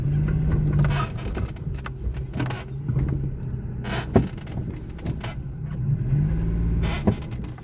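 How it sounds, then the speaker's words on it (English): A 2002 Daewoo Matiz with its 0.8 engine is driven slowly and brought to a stop for parking, a steady low engine hum running throughout with a few brief clunks and knocks from the cabin. "Let's put the car back."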